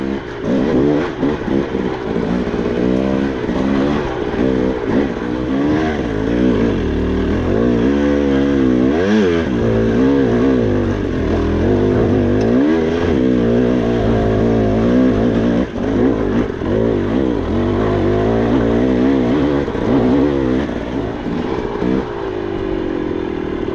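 Dirt bike fitted with a TSP head and tune on the white map, ridden hard on a long, hard trail ride at a dirt bike event; a loud, continuous engine drone rises and falls with changing revs throughout, with no talking.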